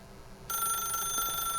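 A telephone in the video game The Stanley Parable starts ringing abruptly, with a steady bright electronic ring that continues to the end.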